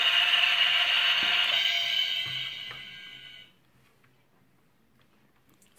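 Key turning in the lock of an electronic Guess Who game, a steady mechanical ratcheting whir lasting about three seconds before cutting off into near silence.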